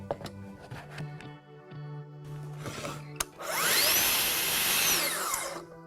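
A Festool TSC 55 cordless plunge saw spins up to full power, a loud close whine that rises after some clicks and handling noises, holds steady for a couple of seconds, then winds down.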